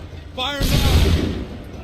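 A musket volley from Assassin's Creed III: a shouted command, then a loud, rolling burst of gunfire that fades out over about a second.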